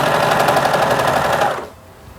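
A serger runs a seam on laundry-bag fabric for a dress, a steady fast mechanical whirr with dense stitching rhythm that holds loud and even for about a second and a half, then stops abruptly.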